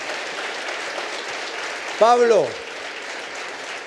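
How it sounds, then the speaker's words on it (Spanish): Congregation applause during a church sermon, a continuous hiss of clapping in the background while a voice briefly calls out a name partway through. "Otro aplauso al Señor, se lo merece"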